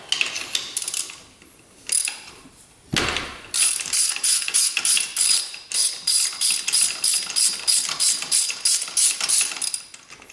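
A hand ratchet loosens a spark plug on an ATV with rapid, close pawl clicking in repeated bursts between short pauses.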